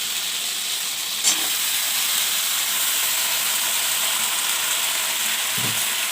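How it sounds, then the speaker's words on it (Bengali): Split green chillies and a hilsa fish head frying in a pan with pui shak, a steady loud hiss of sizzling oil with two brief knocks, no voices. "দিয়ে কিছুক্ষণের জন্য ভেজে নেব"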